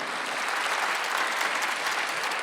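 Congregation clapping steadily through a Sunday church service, a dense, even wash of applause from many hands filling the room with no talk over it.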